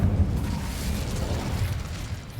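Incendio fire spell cast in Hogwarts Legacy, a steady roaring whoosh of flame with a low rumbling body, sustained at even loudness for a couple of seconds with no speech.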